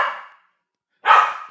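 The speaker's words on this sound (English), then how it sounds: "1 bark for no, 2 barks for yes. There's a bunch of barks." A dog barks twice in separate bursts, a loud near bark at the start and another after a short silence, with no talk.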